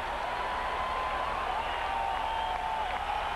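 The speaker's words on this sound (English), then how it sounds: "And the cheer is for this man, Brunansky, for taking Bordick out" A ballpark crowd at a 1991 Athletics vs Red Sox baseball game cheers in a steady, distant wash of applause and voices that holds evenly throughout.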